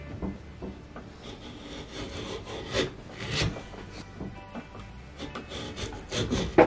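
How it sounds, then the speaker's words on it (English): A Katz-Moses KM-17 router plane cutting a trench through a wooden board, giving close, uneven scraping and rasping strokes in a loose rhythm with no talking. "I am going to dig a trench through it with the router plane."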